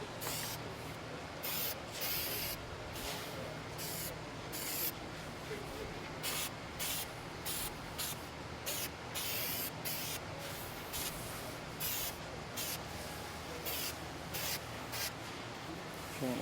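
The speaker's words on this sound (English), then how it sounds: "I just want to lay down a little bit of this spray glue" Spray glue hisses onto a foam edge for a monster suit head, in close, loud bursts of varying length that repeat steadily with brief gaps between them.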